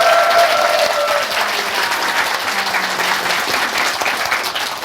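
Studio audience at a Korean television talk show applauds after a live song by a CCM singer, a steady, dense clapping that fills the room at close range, with faint voices mixed in underneath.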